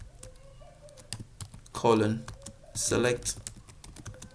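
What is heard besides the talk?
typing on a computer keyboard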